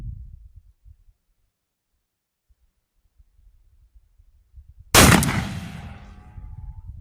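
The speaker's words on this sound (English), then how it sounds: "It's sure a fun gun to shoot, that's for sure." Bridger Plains Hawken muzzleloader rifle fired once outdoors, a single sharp loud blast after several seconds of near quiet, followed by a rolling decaying boom and echo.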